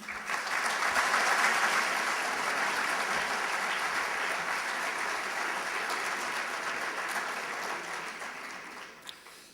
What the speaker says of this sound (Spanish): Les agradezco el aplauso